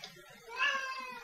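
A house cat gives a short, faint meow indoors, one brief rising cry with quiet room noise around it.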